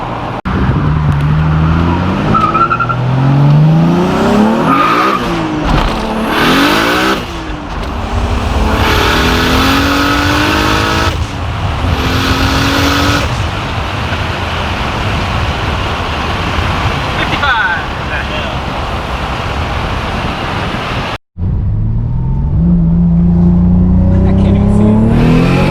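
An 800 hp big-turbo Mk4 Toyota Supra roars loudly as it accelerates hard on a street, rising and falling through gears with a brief cut near the end, voices heard over the engine.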